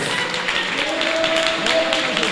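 A church congregation claps during a bilingual Portuguese-Spanish sermon, giving dense, steady applause that continues throughout with a faint voice underneath.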